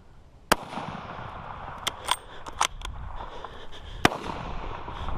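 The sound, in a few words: gunshot from a hog hunting rifle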